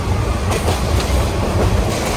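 The Tista Express passenger train runs along its rails on the route from Dhaka to Dewanganj, a loud, close, continuous rumble with rhythmic clickety-clack of wheels over rail joints and no talking.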